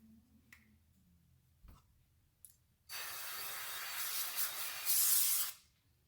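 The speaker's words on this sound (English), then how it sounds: "avocado oil spray" A few small clicks, then a sustained hiss of an avocado oil spray can spraying for nearly three seconds, close and fairly loud, before stopping.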